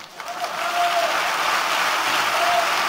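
Audience at a political speech breaking into loud, sustained applause that swells quickly and holds steady, a dense crowd clapping with no talking.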